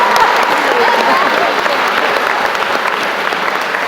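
An audience applauds and cheers for math teachers at a school assembly, a dense, steady wash of clapping that carries loud and unbroken throughout.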